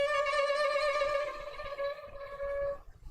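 A lone violin plays a sustained, smooth bowed note with gentle vibrato, followed by a few softer moving notes before it fades.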